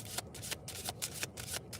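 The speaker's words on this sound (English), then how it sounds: "I was wondering if I was going to have to shuffle the old way" Tarot cards shuffled by hand, a quick run of crisp riffling bursts in a steady rhythm, close and fairly quiet.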